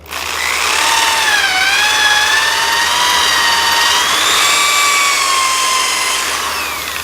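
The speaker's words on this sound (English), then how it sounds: "I'm just tilting the drill like this and like this so that I get that hole a little bit bigger" A power drill tilted to enlarge a hole whines continuously at close range, its pitch rising and dipping slightly as it bores, running alone for several seconds.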